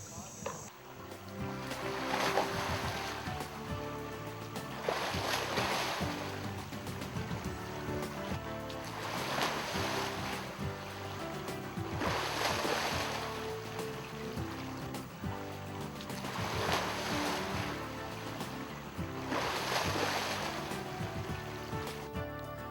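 A swimming pool current machine churns the water with a continuous rushing wash that swells and eases in a slow, regular rhythm of loud surges.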